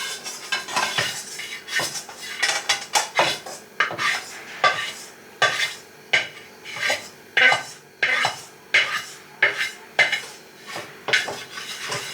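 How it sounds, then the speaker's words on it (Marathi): Eggs beaten in a bowl for an omelette, a brisk run of clinking, scraping strokes with short pauses between bursts, close and fairly loud. "पहिले मस्तपैकी हलवून घेऊ, म्हणजे कसं टेन्शन नाही, ऑमलेट व्यवस्थित झालं पाहिजे."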